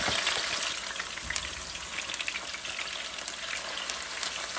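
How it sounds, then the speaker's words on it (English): Chicken stew ingredients fry in hot oil with a steady bright sizzle and scattered sharp pops and crackles, close and fairly soft, with no talking. "Ah, it's popping on me."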